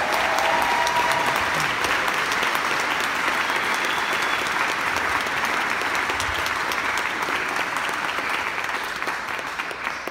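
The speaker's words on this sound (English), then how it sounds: "I think we should give a round of applause to Sean Hughes" An audience gives Sean Hughes a dense, steady round of applause that holds at an even level throughout and tapers slightly at the end.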